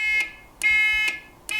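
An indicator buzzer in a Lotus 7 Birking kit car beeps in a steady on-off rhythm, sounding four short, bright, evenly spaced tones at close range with no talking.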